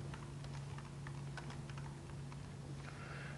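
Fast typing on a computer keyboard to enter a macro nickname: a quick run of light key clicks over a steady electrical hum, close and quiet, with no talk.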